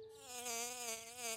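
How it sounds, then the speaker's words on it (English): A cartoon honeybee buzzing close by, a steady droning hum that swells slightly in loudness, alone and faint, lasting just over a second. "That's just a honeybee, George."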